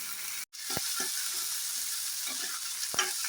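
Mustard seeds, ginger and chopped vegetables fry in coconut oil with a continuous close sizzle. Occasional knocks and scrapes from stirring punctuate it, and a brief dropout comes near the start.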